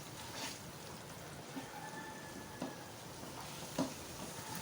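Mutton masala frying in ghee, a steady soft sizzle with a few light clicks of stirring, fairly quiet and with no voices.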